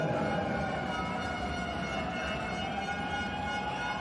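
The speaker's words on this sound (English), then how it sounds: "The siren's going off." A steady wailing siren rises and holds over a noisy crowd at a men's volleyball match in Bari, Italy, sounding continuous and fairly far off with no break across the stretch.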